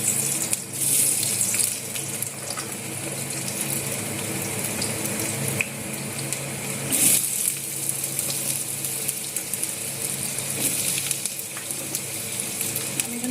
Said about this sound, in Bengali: তেল গরম হয়েছে, এবার আমি আলুগুলো দিয়ে দিই।